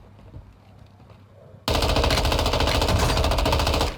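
An assault rifle fires in the video game Call of Duty Warzone 2.0, a loud sustained automatic burst that bursts in after quieter background sound and rattles on for about two seconds.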